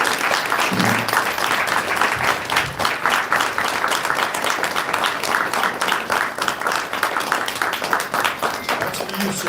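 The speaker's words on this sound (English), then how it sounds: "I'd like you to give Assemblyman Jeffron Aubrey a round of applause" Steady applause from an audience at a Queens community board meeting fills the room, with dense clapping sustained throughout and voices murmuring underneath.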